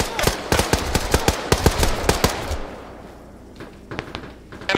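Video game gunfire in a multiplayer town attack: rapid bursts of loud automatic shots crackle for about two seconds, then pause before a few scattered single shots return, with no talking over them.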